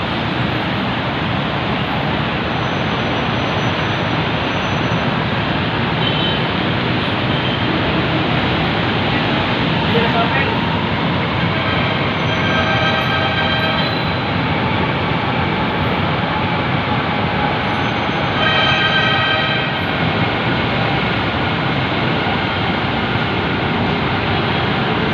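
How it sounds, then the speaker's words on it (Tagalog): A Manila MRT train passes along EDSA at Cubao, Quezon City, a steady loud rumble blending with heavy road traffic noise throughout, with faint brief squeals partway through. "Ayun na naman po guys yung MRT."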